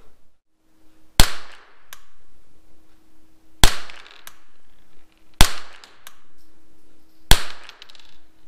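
Four sharp, loud rifle shots from a Rossi RS22 .22 LR rifle, spaced about two seconds apart. Each crack is followed by a short echo tail and a faint secondary click, with quiet outdoor background between shots.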